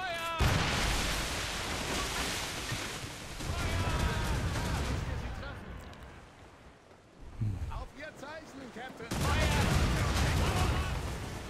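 Ship cannons fire salvos in Assassin's Creed Rogue during an Atlantic naval battle, heavy booming bursts with rushing waves between them and voices talking throughout.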